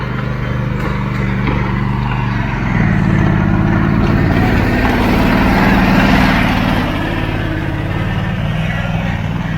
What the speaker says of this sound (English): Buggy up the traction mats.